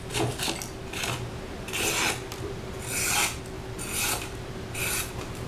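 A brush rasps back and forth across a knife blade in several separate strokes, each a dry scratchy sweep, close and fairly quiet with short pauses between.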